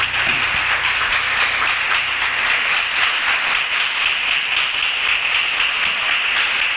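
A Baptist church congregation applauds during a worship service, a thick, continuous wash of clapping from many hands, loud and even throughout, with no speech over it.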